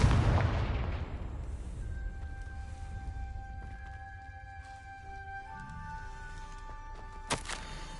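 A Confringo fire spell bursts in Hogwarts Legacy on PS4 with a single heavy boom at the start, decaying into rumbling debris while sustained magical tones ring, and a sharp crack lands near the end.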